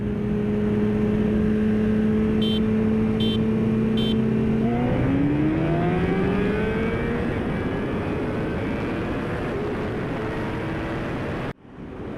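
A 2017 Yamaha R6 with a quick shifter pulls hard toward a corner, its loud engine tone climbing, shifting up and climbing again in a sustained close roar that drops off abruptly at the end.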